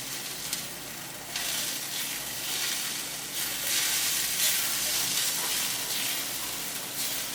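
Potato and carrot pieces coated in salt, turmeric, garam masala and dried chili powder fry in a pan, a constant close sizzle with light stirring that swells and eases in waves, heard alone without speech.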